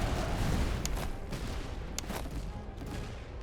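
Musket volleys and artillery fire in the battle game Master of Command rumble and crack in a dense, steady barrage, with a few sharper reports standing out.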